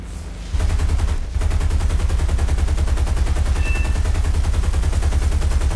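Aircraft machine guns hammer away in the War Thunder video game, a loud continuous stream of rapid rounds after a brief pause, sustained without letup for several seconds.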